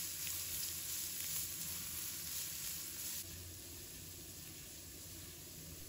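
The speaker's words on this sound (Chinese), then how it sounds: "倒入适量的食用油，把姜、蒜倒入锅中" Ginger and garlic fry in cooking oil in a wok, making a steady, close hissing sizzle that drops slightly in loudness partway through, with no voices.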